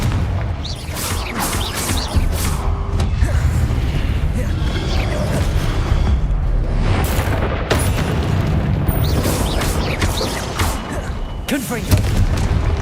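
Repeated Confringo blasting-spell explosions in Hogwarts Legacy, a dense run of loud, booming bursts with crackling debris, layered over a steady background of game noise and a speaking voice.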